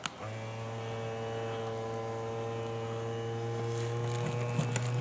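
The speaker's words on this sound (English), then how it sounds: "It's just sucking air around that seal." Vacuum sealer pump pulling air out around a seal during home canning, a steady close electric hum and buzz that runs unbroken, with a faint click at the start.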